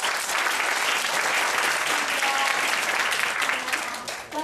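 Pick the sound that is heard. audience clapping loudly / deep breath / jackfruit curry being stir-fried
audience clapping loudly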